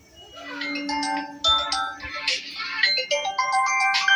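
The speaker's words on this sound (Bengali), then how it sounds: "জলি ফোন করেছে" A mobile phone ringtone for an incoming call plays a bright, repeating electronic melody, loud and close, with no talk over it.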